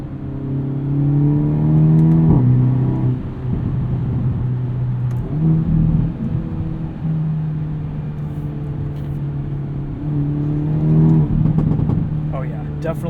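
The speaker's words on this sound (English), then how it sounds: "definitely some more aggressive pops and burbles in NGrinShift mode" A 2022 Hyundai Elantra N with a dual-clutch gearbox, in N Grin Shift mode, drones steadily from inside the cabin, its engine tone rising and falling through gear changes, with a few short exhaust crackles and a voice talking over it.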